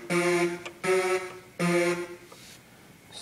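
A MicroKORG synthesizer plays a riff with latch off, three buzzy, harmonically rich sustained notes with short gaps between them, bright and close, with nothing else heard.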